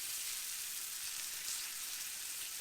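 Food frying hard in a cast iron pan at an off-grid camp, a dense, steady hiss and crackle of spattering oil that fills the whole clip without pause.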